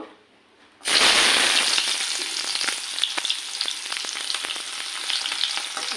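Onions drop into hot oil left from frying fish in a home kitchen, bursting into a loud, dense sizzle after a quiet second, with crackling pops continuing steadily and close by.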